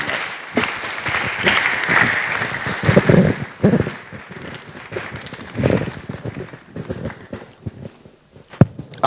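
Audience applause after a speech at a church biennial general meeting, a loose, uneven patter of claps with scattered louder hand strikes and shifting intensity, fairly close.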